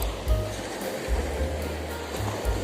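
Ocean surf at Kuta Beach in Bali, with waves rumbling and washing in repeated low surges under steady wind, recorded close by from the shore.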